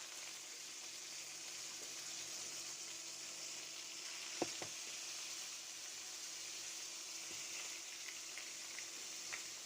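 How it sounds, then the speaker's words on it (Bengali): Rohu fish, rubbed with turmeric and salt, going into hot mustard oil in a home kitchen, giving a steady broadband sizzle throughout with a sharper pop or splash midway; no talking. "তেলটা গরম হয়ে গিয়েছে দিয়ে দিচ্ছি মাছ"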